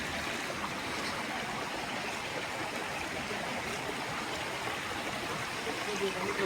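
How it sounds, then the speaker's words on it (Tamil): Small waterfall and stream near Vilpatti village in Kodaikanal, a steady, dense rush of flowing water heard close and continuous with no pauses. "அதுதான் இந்த சின்ன ஒரு ஃபால்ஸ், ரொம்ப அருமையான ஒரு ஃபால்ஸ்"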